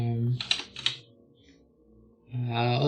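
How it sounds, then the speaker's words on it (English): Someone types on a computer keyboard, a short cluster of key clicks between stretches of a voice talking close to the microphone. "we'll just type whatever into this tab"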